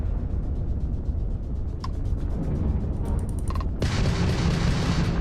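A ballistics cannon fires from a spaceship in Starfield, heavy booming shots with mechanical clicks over a constant engine rumble, the last blast loud and close, with no talk.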